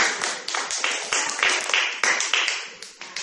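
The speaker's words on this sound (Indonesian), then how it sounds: "Beri tepukan pada dia" Pupils in a classroom clap for a classmate, a short burst of rapid, uneven handclaps from a small group, fairly close and moderately loud.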